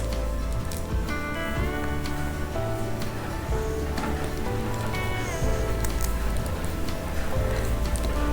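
Flat beans (shim) being washed in water, with steady close splashing and trickling that runs through the whole stretch. There are a few sharper drips and knocks, and no one talks.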